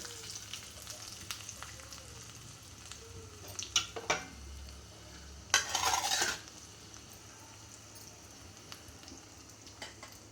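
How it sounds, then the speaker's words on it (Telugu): Cumin, mustard seeds, shallots and curry leaves crackling in hot oil for sambar, a quiet background sizzle broken by scattered pops and one loud burst of spitting when more is added; no talking. "జీలకర్ర జీలకర్ర వేసుకున్నాం ఆవాలు వేసుకున్నాం చిన్నపాయ వేసుకున్నాం కరివేపాకు వేసుకుందాం"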